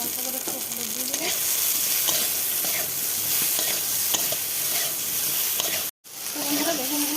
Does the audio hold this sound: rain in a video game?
no